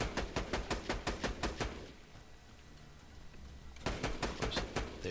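A Vladof sniper rifle in Borderlands 2 fires rapid bursts of sharp, evenly spaced shots, a burst of about eight, a short lull, then another fast volley, loud and close.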